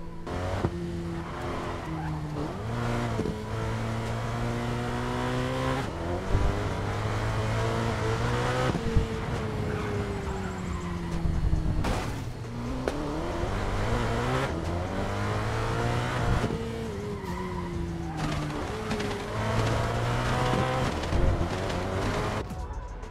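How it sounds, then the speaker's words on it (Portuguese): Ferrari engine roaring in the Racing Master mobile racing game, loud and continuous, revving up and down through gear shifts with tire squeal and skidding through corners, no talking. "Agora escutem aí só o ronco do carro, galera."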